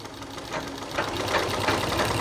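A sewing machine runs a curved seam on suit fabric, a short, close, rapid mechanical whirr that speeds up and holds steady.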